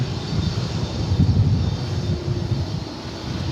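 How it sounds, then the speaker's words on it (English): Korean Air Cargo Boeing 747 jet on its takeoff run at DFW Airport, a steady distant engine roar with low rumble and wind buffeting, no voices over it. "We've got another 747 for you. This one is going to take off."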